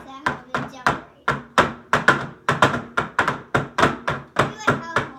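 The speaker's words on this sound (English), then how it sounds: "So go ahead and start smacking it on the table. Really hard." A pan of cake batter is slammed hard on a table over and over, a steady series of about sixteen loud, close, hollow thunks in a quick even rhythm with no talking.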